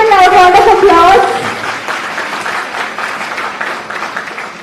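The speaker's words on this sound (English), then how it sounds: "Please give a loud round of applause." Applause at an annual law lecture honoring a vice principal, with voices heard at the start, then dense, moderately loud clapping from the audience that fades a little as it continues.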